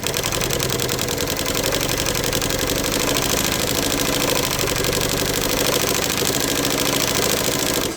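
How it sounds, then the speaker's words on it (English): A chain stitch embroidery machine driven by a 3/4 horsepower Conso servo motor with a small pulley runs at a constant fast speed, producing a dense, loud, rapid mechanical clatter that continues without pause. "I'm using a 3/4 horsepower Conso servo motor with the small pulley."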